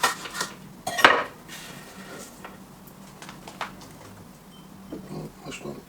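Spoon stirring a mixture of cheese, spring onion and parsley in a bowl, with clinking scrapes and a louder clatter near the start, then softer intermittent scraping close by.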